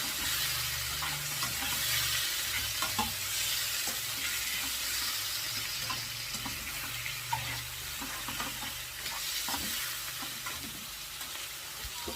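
Chicken liver sizzles in a pan while being stirred, a continuous close frying hiss with soft scraping and light clinks throughout.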